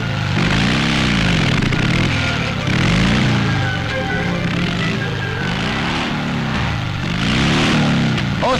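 A 1960 motorcycle races past skiers on snow, its engine a loud, steady drone that swells and eases in repeated waves as it passes, with no other sounds standing out.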